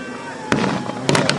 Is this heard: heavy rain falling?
no